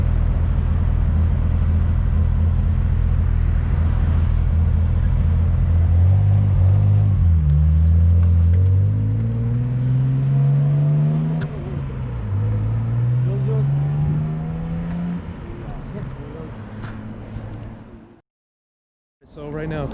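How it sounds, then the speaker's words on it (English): A Nissan Skyline Hakosuka on its first drive, engine note rising steadily through acceleration with a loud, close rumble and revving pitch sweeps, dropping away briefly near the end. "So right now Chris is out there taking his Skyline for his first ride."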